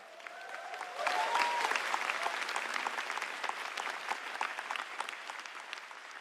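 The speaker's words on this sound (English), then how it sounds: "Everybody give a round of applause to my mom and dad." Audience applause at the GTC Taipei 2026 keynote swells quickly after a brief start, then holds as sustained, dense clapping that thins slightly toward the end, with a few faint whistles early on.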